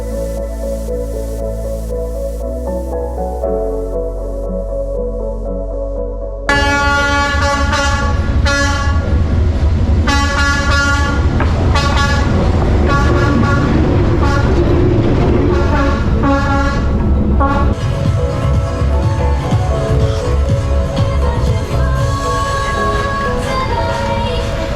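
A train rolls through the narrow street of the Hanoi railway cafe with its horn sounding, a loud, close passage of rumbling wheels and wagons under repeated blaring horn blasts.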